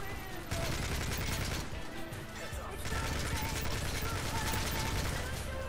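Rapid bursts of video game gunfire from blind firing crackle steadily and loud, with a brief lull before the shooting resumes, and a voice is mixed in.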